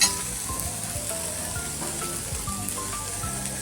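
Onion frying in a pan with turmeric, coriander powder and salt, being cooked for a bitter gourd vegetable dish: a steady close sizzle with small crackles, no talking.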